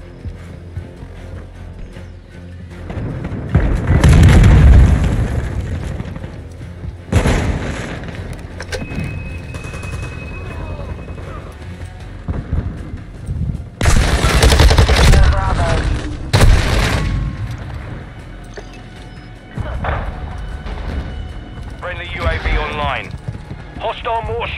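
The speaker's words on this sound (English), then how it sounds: "Hostile mortar strike near your position." Mortar rounds slam down in a military shooter, heavy booms bursting in several separate waves amid scattered battlefield noise, with radio-style voice callouts in between.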